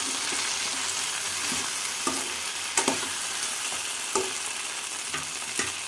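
Spoon stirring a tomato and okra curry in a sizzling pan, with a steady frying hiss and occasional scraping taps against the pan.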